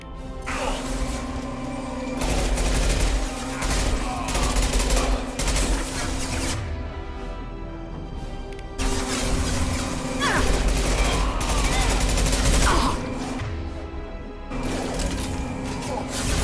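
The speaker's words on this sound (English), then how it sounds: "Firing concussive shots." Concussive shots fired in the video game Mass Effect, dense dull booms and gunfire bursts over a steady hum and mechanical noise, loud and continuous.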